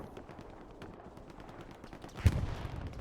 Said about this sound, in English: And the artillery is going a bit too wide from circle.